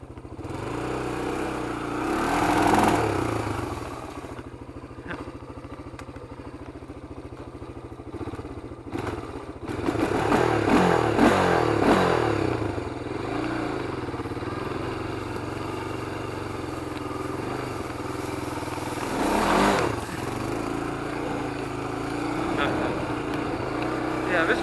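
Small kids' motorcycle riding at low speed, its buzzing engine rising and falling in pitch as it revs and passes nearby, with clattering and some people talking in between.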